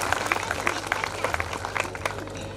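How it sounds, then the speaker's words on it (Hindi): A crowd at a high school annual prize distribution function claps to welcome guests, producing a dense, steady patter of many hands at moderate loudness, heard nearby for a couple of seconds. "आपकी भरपूर तालियों में एक बार फिर हम अपने मेहमानों को वेलकम करते हैं"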